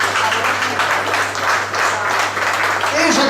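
Audience applause for Jacqueline Dallet at an award ceremony, a moderate steady patter of clapping with a voice entering near the end.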